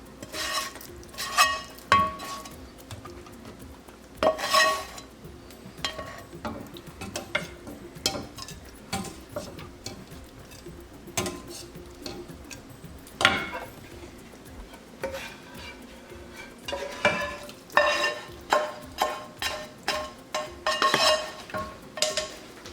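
Tadka of onion and tomato being stirred into urad dal in a pot, with repeated scraping and clinking spoon strokes against the metal over a soft sizzle, up close and without talk.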